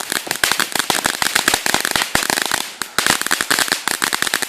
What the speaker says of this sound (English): Let's see this firework.